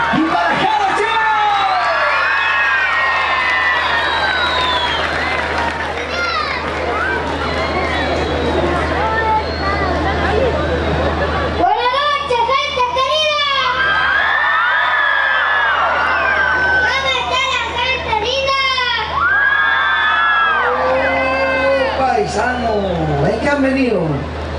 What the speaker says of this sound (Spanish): Fuerte los aplausos para Isidro y para Jero Chico